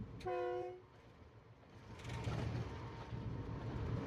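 A train horn sounds briefly, then the low rumbling roar of a Pakistan Railways train passing steadily grows and continues, faint and somewhat distant.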